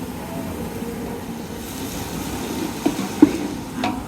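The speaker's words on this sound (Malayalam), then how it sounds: "നന്നായി ഇളക്കണം അല്ലെങ്കിൽ അടിപ്പിടിക്കും" Garlic and biryani masala being stirred in a hot pan for a festive Rauthar dum biryani, a steady low frying rustle with a few brief spoon scrapes near the end, no talking.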